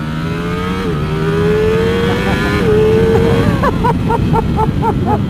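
A 2020 Ducati Streetfighter motorcycle accelerates hard along a road. Its loud engine note climbs steadily and then drops back between gears, and quick rev blips follow near the end.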